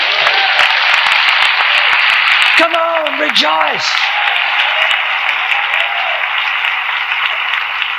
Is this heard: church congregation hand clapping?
yes